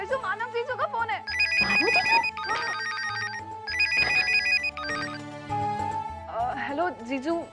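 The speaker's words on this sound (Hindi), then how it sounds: "वैसु, मानव जीजू का फोन है।" A melodic phone ringtone repeats its tune loudly over background music in a Hindi TV serial scene.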